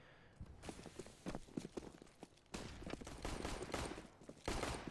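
Bursts of gunfire ring out in a Counter-Strike match on the Cache map, with sharp repeated shots and rapid fusillades clustering near the start, the middle and the end, over steady background game noise.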